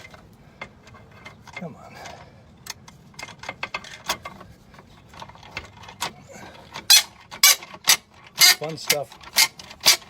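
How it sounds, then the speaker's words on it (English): A ratchet drives a 13mm socket on bolts inside a Lincoln Mark VII during air suspension repair, starting with soft, scattered clicks and building into loud, rapid, close ratcheting bursts, while a man mutters a few words. "I can get in here with a 13mm socket on a ratchet"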